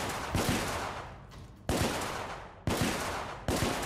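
Revolver shots fired in The Order: 1886, three sharp loud blasts spaced about a second apart, each with a short decaying tail, over game ambience with no talk.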